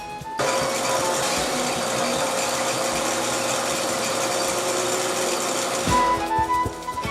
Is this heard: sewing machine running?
yes